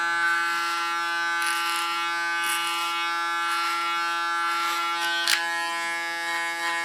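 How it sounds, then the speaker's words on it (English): An electric hair clipper buzzes steadily and close up while cutting very short hair at the back and centre of the head, its motor hum continuous with slight changes in pitch and texture as it moves through the hair. "Again use my clipper as a comb."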